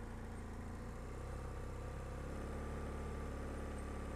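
A motorbike engine running slowly with the clutch slipped and the throttle balanced, a steady low idling drone that swells slightly louder partway through and holds even to the end.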